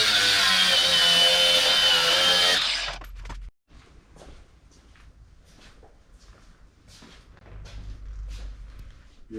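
A power tool cuts a quarter inch off aircraft firewall parts for a Van's RV-7A build, a loud steady whine for a few seconds that stops abruptly, followed by scattered clanks and handling knocks.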